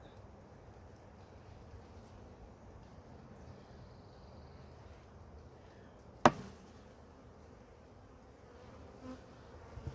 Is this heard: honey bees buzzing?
yes